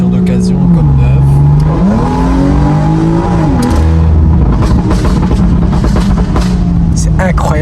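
A stage 2 tuned BMW M140i, over 450 hp, accelerates hard, its engine note climbing and dropping through gear changes, loud and close with a strained roar throughout.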